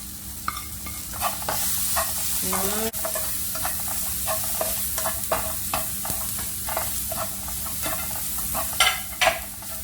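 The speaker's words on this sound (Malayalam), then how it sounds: "ഒനിയനും കാപ്സിക്കവും ടൊമാറ്റോ നല്ല സോട്ടായിട്ടുണ്ട്. ഇതിലേക്ക് നമുക്ക് മുളക് പൊടി, ചാറ്റ് മസാല" Onion, capsicum and tomato sautéing with chilli powder, chaat masala and roasted cumin in a pan for a paneer sandwich filling, a steady close sizzle broken by repeated scraping spatula strokes throughout, with no talking.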